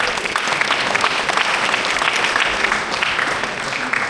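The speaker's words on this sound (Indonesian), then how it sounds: "Boleh tepuk tangan, luar biasa." An audience at a motivational talk claps steadily, a dense wash of applause that stays loud and even for a few seconds with no voices on top.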